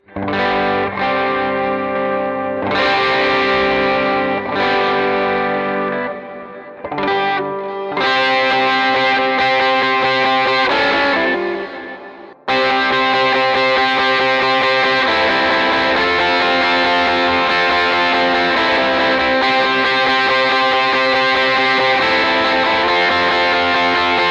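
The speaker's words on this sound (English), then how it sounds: "let's go from my home bass over to the lead sound, which is adding in the blues breaker" Electric guitar lead tone driven through a Blues Breaker overdrive pedal, loud and gritty, ringing sustained chords and notes with brief pauses before settling into a long, continuous distorted passage.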